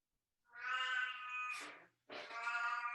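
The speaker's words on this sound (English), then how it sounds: "that's my cat" A pet cat meows indoors, two drawn-out close cries separated by a short pause, clear and alone against a quiet background.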